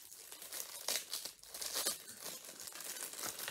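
Plastic packaging of a diamond painting kit being torn and crinkled open by hand, close and fairly loud, with bursts of sharp crackling and ripping across a few seconds.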